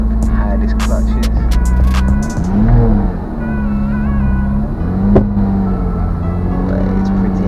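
Manual Porsche Boxster S, over 10 years old, pulling away in first gear with a high clutch: a loud low engine drone close by, rising and dipping as revs change, with brief voices over it.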